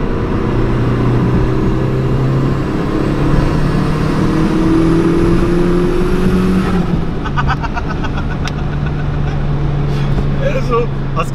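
On the Autobahn, a VW Lupo is passed by an overtaking car, heard as a steady loud engine and road drone with a rising whine as the other car goes by, then rapid rattling clicks near the end.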